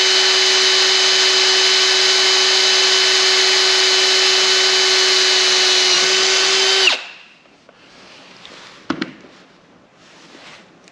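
A Drill Doctor sharpening a drill bit gives a loud, steady high-pitched grinding whine for about seven seconds, then cuts off, leaving quiet handling clicks and a sharp knock.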